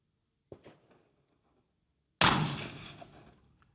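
A suppressed precision bolt rifle fires a single shot on a long-range course: faint handling clicks, then one loud, sharp report that decays over about a second and a half.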